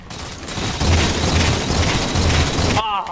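A grenade blast in the Halo 4 multiplayer game, team doubles, sounds as a loud low boom with rumbling debris and game noise over about three seconds, ending in a sharp cutoff.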